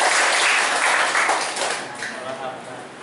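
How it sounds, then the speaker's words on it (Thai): A group of trainees in a Thai workplace 5S productivity training session applauds together. The clapping is dense and sustained, starts loud and fades gradually, and some voices mix in. "ขอเสียงปรบมือทุกกลุ่มนะ"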